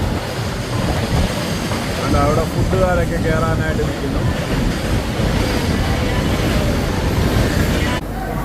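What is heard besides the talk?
goods train passing at Nellore railway station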